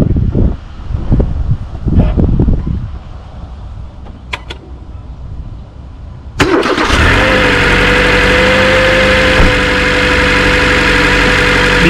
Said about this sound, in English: want to see the difference, see how quiet the engine is before and now after service